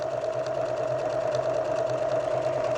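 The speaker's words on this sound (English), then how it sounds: "And then align the center of the needle with the other buttonhole and stitch." A sewing machine stitches an embellishment onto fabric, running in one steady, continuous hum with a fast, even stitching rhythm throughout, close and clear with no talking.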